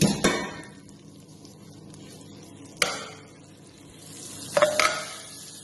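Crushed garlic and chili peppers go into a hot pan, giving a soft steady sizzle with a few sharp knocks and clinks of a utensil against the pan, close and moderately quiet, with no talking.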